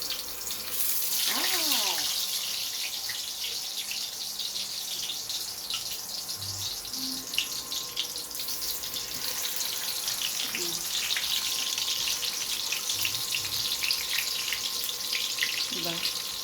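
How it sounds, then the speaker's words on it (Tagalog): Chicken hotdog frying in hot cooking oil in a home kitchen, a steady dense sizzle and crackle running throughout with a few faint clinks and brief tonal bumps over it. "piprito ko naman ngayon yung hotdog, chicken hotdog"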